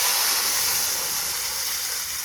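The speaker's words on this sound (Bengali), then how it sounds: "গরম জল দিয়ে দিচ্ছি" Hot water hits a pan of frying rice and peas, bursting into a loud, steady steam hiss that fades slightly over two seconds.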